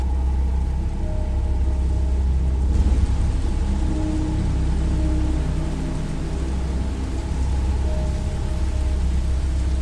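Steady rain falls outdoors behind a school, a dense continuous hiss with a low rumbling undertone that stays constant throughout and has no voices over it.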